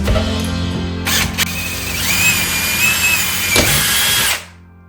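A power drill whirs loudly and close up in bursts while installing kitchen cabinets, its motor whine rising and falling in pitch before cutting off at the end.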